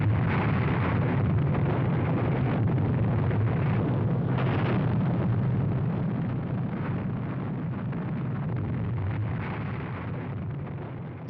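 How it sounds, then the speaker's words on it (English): Archival recording of the Fat Man plutonium bomb exploding over the port of Nagasaki, a sustained loud roaring rumble that holds for many seconds and slowly eases, with no voices. "on August the 9th, Fat Man was dropped on the major military port of Nagasaki. The plutonium bomb was even more powerful."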